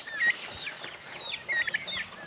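Turkey chicks and chickens in a barn give soft, high chirps and clucks in scattered short bursts, moderately close, with no talking.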